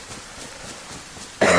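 After a near-silent pause, one short, harsh cough bursts out loudly close by.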